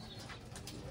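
Pigeons coo softly inside a loft, a faint low cooing with light rustling over a quiet background.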